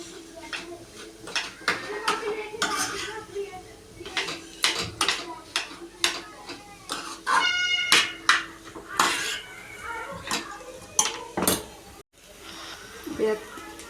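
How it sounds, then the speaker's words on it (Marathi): Potato filling for aloo paratha mashed in a pan, with repeated close metallic clinks, taps and scrapes of a utensil against the pan in an irregular rhythm. "मी जरा पराठा असंच मॅश करून घेते."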